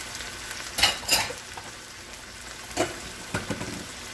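Marinade splashes into a hot pan of orange sesame steak stir fry with onion and pepper, giving short sizzling bursts that fade between pours against a quiet background.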